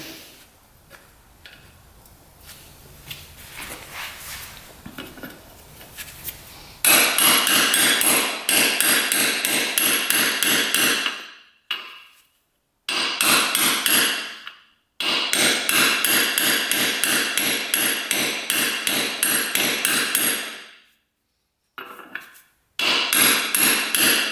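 A spacer and bearing being hammered into a dirt bike, rapid loud metallic blows in long close bursts separated by brief pauses, after a quieter opening stretch, with no talk.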